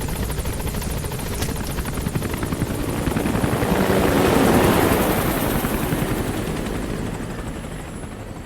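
Support helicopter arriving for extraction in Metal Gear Solid V, a steady chopping rotor drone with engine whine that swells as it nears and then eases slightly, continuous and prominent throughout.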